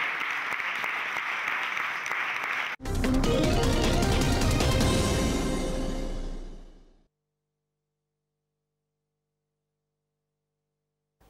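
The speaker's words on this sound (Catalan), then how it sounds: "Un grup de saxos de l'Escola Municipal de Música ha interpretat l'himne d'Europa, que ha estat llargament ovacionat pel públic assistent." Audience applause following a saxophone group from the municipal music school playing the European anthem in Terrassa; loud, dense clapping starts abruptly after a brief pause, holds steady for about four seconds, then fades out into silence.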